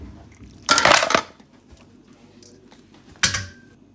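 Chopped coriander and other ingredients are stirred in a pan, with two bursts of metal scraping and clattering separated by a quiet pause.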